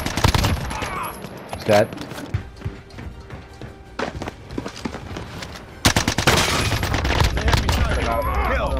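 Bursts of automatic gunfire crackle in a combat scene, short sharp volleys early on and then a loud sustained stream of shots near the end, with people talking over the shooting.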